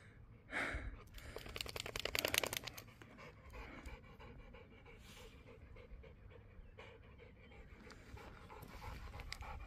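A large, tired dog pants in rapid, rhythmic bursts close by, heaviest near the start, then eases into quieter steady breathing over faint outdoor background noise near Ramatuelle, Saint-Tropez.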